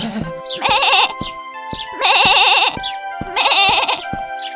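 Three loud, wavering sheep bleats come in slow succession, each about a second long and separated by brief pauses. Faint tinkling chimes sound alongside them in an animated fairy-tale barn scene.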